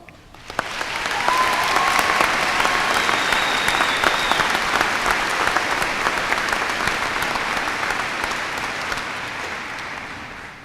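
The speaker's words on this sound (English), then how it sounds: "please help me give them a round of applause." A large commencement crowd at UW-Stevens Point bursts into loud applause for professors, the clapping swelling quickly after a brief quiet start and then sustaining as a thick, even roar that slowly tapers.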